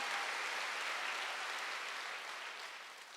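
A church congregation at a Sunday worship service claps together in a dense, even wash of applause that holds steady, then eases off slightly toward the end.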